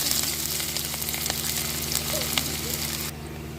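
Ground whole garam masala paste and chopped onion sizzling in hot oil, a steady close crackle with faint scraping throughout, alone without talk.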